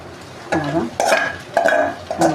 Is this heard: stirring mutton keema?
yes